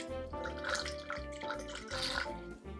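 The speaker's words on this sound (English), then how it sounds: "And you can just hear those bubbles." Wine bubbles and gurgles as it is poured through a Venturi aerator, a close, soft stream of rapid little pops and drips that stays quiet and continuous.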